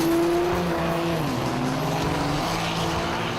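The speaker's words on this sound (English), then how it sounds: "Put you on the start line and let you go the quarter mile as fast as you can." A drag racing car launches down a quarter-mile strip with a loud engine roar that slides slowly downward in pitch as it pulls away, steady and continuous with no voices.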